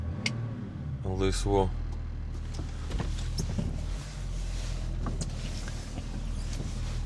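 Car on a test drive with headlights switched on, a steady low engine and road rumble running throughout beneath someone talking, with a few small clicks and knocks from inside the cabin.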